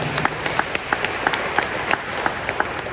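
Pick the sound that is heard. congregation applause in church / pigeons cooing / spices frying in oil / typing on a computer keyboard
congregation applause in church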